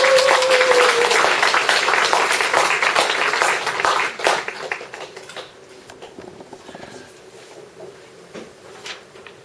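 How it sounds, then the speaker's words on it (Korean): Audience at a Won Buddhist lecture gathering clapping warmly as a speaker is welcomed forward, applause strong at first then thinning into scattered claps and shuffling. "큰 박수로 앞으로 모시겠습니다"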